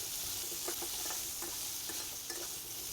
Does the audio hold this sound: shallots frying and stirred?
yes